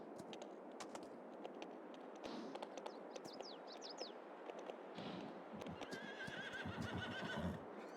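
Horses in the farming game Farming Simulator 22 whinny repeatedly over a steady bed of ambient farm noise, with scattered hoof clip-clops and occasional bird chirps in the background, no talking.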